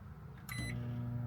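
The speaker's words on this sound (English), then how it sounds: "I'm gonna run the microwave real quick." An RV microwave oven starts up on lithium battery power: a short beep and click, then a steady low hum settles in and carries on alone at moderate volume.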